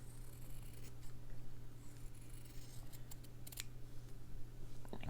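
Scissors snip through fabric being trimmed for slow stitching, a few quiet, close cuts over a low steady background hum.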